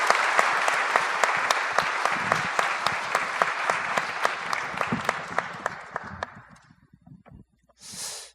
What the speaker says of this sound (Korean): 우리 뜨거운 박수로 열렬히 환영하도록 하겠습니다.